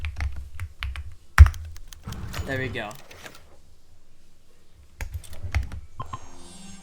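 Computer keyboard keys clatter in quick bursts as a console command is typed during a PC game, with a sharp key strike and a person speaking briefly over the tapping.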